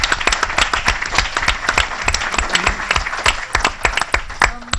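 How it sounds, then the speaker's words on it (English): An audience claps steadily at a leadership roundtable session, a dense, continuous round of applause with many overlapping hands, fairly loud and close, lasting throughout with no talking over it. "A round of applause, please."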